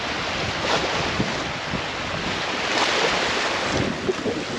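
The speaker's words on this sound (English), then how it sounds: "We got all sorts of wind." Strong gusting wind sweeps across Revelstoke Lake during a canoe trip in deteriorating weather, roaring steadily with buffeting bursts against the microphone and choppy water sloshing close by, with no voices.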